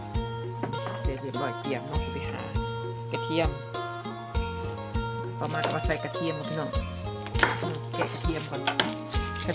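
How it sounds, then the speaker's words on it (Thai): Repeated knife chops on a cutting board as pork is cut into pieces, irregular and close, mixed with clinks of kitchen utensils while a person talks throughout. "หั่นให้มันเป็นชิ้นๆ"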